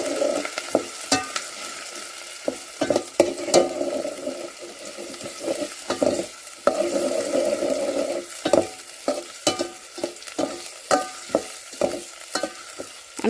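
Chopped onion frying in a pot over a rustic outdoor clay stove, a steady sizzle broken by repeated sharp scrapes and knocks of a spoon as it is stirred, close and without talk.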